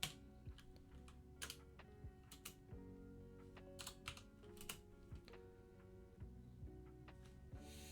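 Fingers type on a computer keyboard in quick irregular bursts of clicks and taps, faint and close, with a low hum underneath and no speech.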